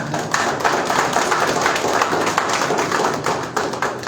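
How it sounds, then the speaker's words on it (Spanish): Crowd applauding to welcome the board at a political campaign event, loud, dense clapping from a sizable audience, steady and continuous with some thumps mixed in. "Los recibimos con un fuerte aplauso,"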